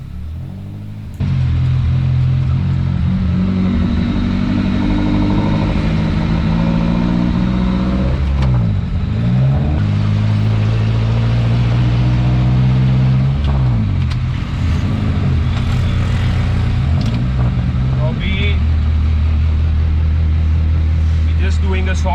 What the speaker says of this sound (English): So we just finished the car and we're going for our first test drive.